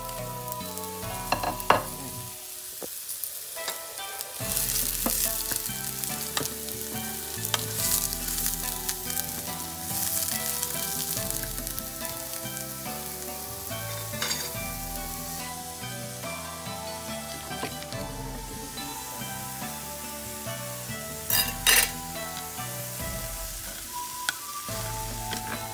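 Foraged mushrooms frying in butter, oil and garlic in a pan, a loud steady sizzle and crackle with stirring throughout, under a continuous musical background.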